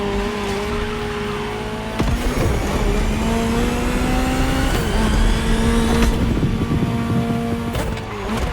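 Ferrari GTO engine in The Crew Motorfest video game, loud and close, revving through rising gear pulls with shift breaks and steady high-pitched drive whine, heard alone.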